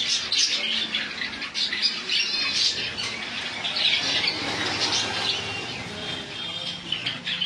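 Caged birds in a bird shop selling java sparrows, cockatiels, conures and lovebirds squawk and chirp continuously, a busy overlapping chorus of shrill calls close by with no talking.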